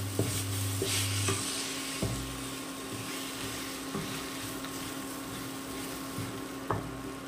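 Protein laddu mixture stirred in a pan, with repeated scraping and knocking strokes of a spatula over a soft sizzle and a steady background hum, close and moderately loud.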